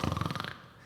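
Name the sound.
vocal snoring imitation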